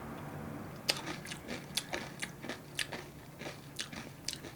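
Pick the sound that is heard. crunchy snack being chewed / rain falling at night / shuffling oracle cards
crunchy snack being chewed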